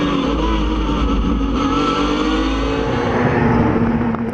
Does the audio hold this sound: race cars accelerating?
yes